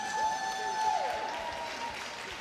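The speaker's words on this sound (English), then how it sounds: "And prolonged applause wherever they are." Steady applause from the arena crowd at the 2022 World Figure Skating Championships pairs short program in Montpellier, a continuous wash of clapping with a sustained tone running through it.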